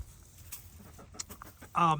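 Brahma chickens, big heavy-bodied poofy birds, give a short burst of clucking near the end, with faint scattered farmyard sounds and soft clucks before it.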